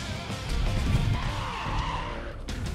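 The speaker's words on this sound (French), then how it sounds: "La Mustang s'élance première, seconde, troisième sur ce parcours d'élan" Ford Mustang drift car launching off the start line at the Chamrousse mountain round of the French drift championship, engine roaring and tyres squealing as it pulls through the gears, loud and close.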